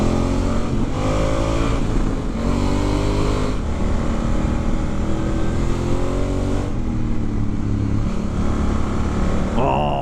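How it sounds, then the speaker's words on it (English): A Honda Africa Twin motorcycle with a stock exhaust revs hard on a Canary Islands road, a loud continuous engine roar rising and falling through gear changes. "That engine just sounds immense."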